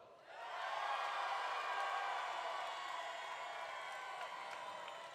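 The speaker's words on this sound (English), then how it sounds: "my mother told me to film the crowd cheering" Crowd cheering and whooping at an FTC Power Play robotics world championship, a broad sustained roar that swells in after a brief quieter start and holds steady at high level for several seconds.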